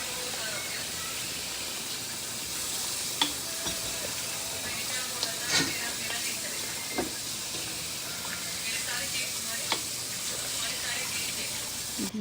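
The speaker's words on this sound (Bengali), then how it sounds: "তারপর দিয়ে দিব 1 কেজি থেকে একটু বেশি খাসির মাংস। কিছুক্ষণ আমরা নাড়াচাড়া করব।" Just over a kilogram of goat mutton is stirred and fried in a pan for a white korma, giving a continuous soft hiss and sizzle broken by occasional clinks and scrapes, fairly close.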